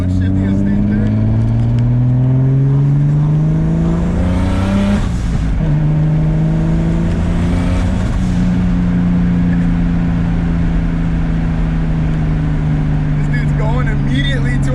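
Turbocharged BMW E30 with an M50 engine making about 500 wheel horsepower, pulling hard in third gear on an open road; a loud, sustained engine note climbs in pitch from inside the cabin, with a brief shift-like dip partway, and people talk over it.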